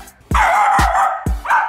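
A puppy barks three times in quick succession, loud and close, each bark a sharp yappy burst with a little whine after it, and no talk over it.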